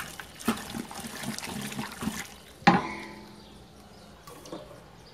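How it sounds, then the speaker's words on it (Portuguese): Hot water poured into a batch of boiling homemade liquid soap made from used cooking oil, heard as a trickling, splashing pour with a sharp splash partway through before it settles. "vamos colocar o restante de água quente"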